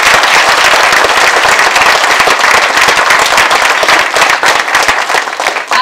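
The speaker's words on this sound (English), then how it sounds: "Let's give them another round of applause." A school musical audience gives loud, sustained applause for the cast and crew, dense close clapping with a few sharp claps popping out of the wash.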